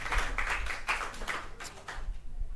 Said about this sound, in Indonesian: Boleh tepuk tangan teman-teman untuk peserta pembuka pada malam hari ini.